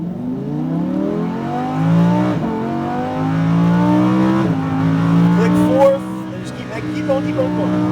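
A Lamborghini Huracan engine pulls hard at full throttle on a track, its rising harmonic whine climbing steadily through gear changes with brief dips between shifts, loud and close; a voice speaks over it.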